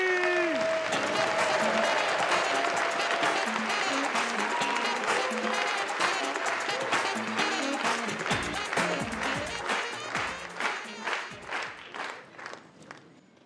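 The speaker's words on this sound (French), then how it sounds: "Tonnerre d'applaudissements, s'il vous plaît" Sustained audience applause and cheering at a live comedy show in a packed hall, loud and dense at first, then thinning into scattered claps and fading toward the end.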